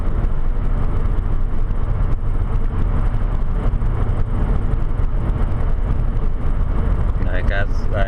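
Steady road and engine noise from inside an automatic car driving along a road, a continuous loud rumble with no clear breaks and a faint voice near the end.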